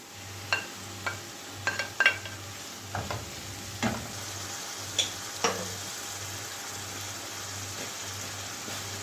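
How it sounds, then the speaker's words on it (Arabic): Meat frying in a pan for a Levantine dish, a soft steady sizzle with scattered metallic clicks and scrapes of a utensil, over a faint rhythmic low hum, no talk. "رح انزل باللحمة"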